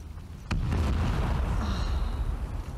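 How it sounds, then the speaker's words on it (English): Explosion in The Last of Us Part II: a sudden close boom followed by a sustained rumbling roar that fades slowly, no talk. "Explosions are very beautiful if you really think about it."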